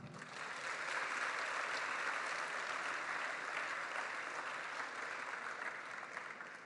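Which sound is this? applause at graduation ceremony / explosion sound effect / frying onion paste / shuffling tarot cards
applause at graduation ceremony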